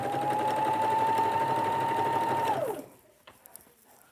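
A sewing machine stitches fabric for kitchen curtains, a steady close whir for about two and a half seconds before winding down and stopping, followed by faint handling clicks.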